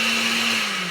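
A blender grinding raw turnips into gratings for a pizza crust, a loud, steady whirring motor hum with a gritty, high rasp that holds unbroken through the whole short moment, no voices.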